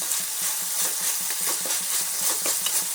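Anchovies fry in hot oil while a spoon stirs through them, a steady close sizzle with regular soft scraping strokes in a quick rhythm.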